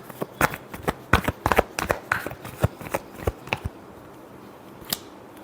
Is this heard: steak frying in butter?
no